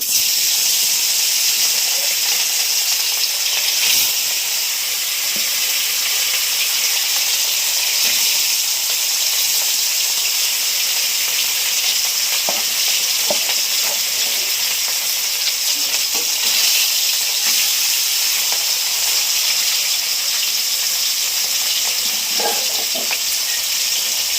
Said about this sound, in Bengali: গেছে মাছ দিয়ে দিচ্ছি